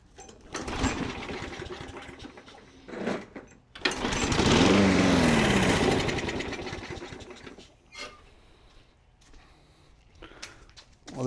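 A Briggs & Stratton engine on a Craftsman lawn mower is pulled to start. Short rattling pulls come first, then a loud burst of engine running for about two seconds that sputters out, followed by more pulls nearby.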